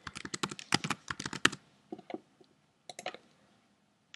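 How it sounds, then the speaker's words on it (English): A password is typed on a computer keyboard, a quick rapid burst of close, crisp key clicks, then a few scattered keystrokes after short pauses. "let's just type in the right one this time so I don't get locked out"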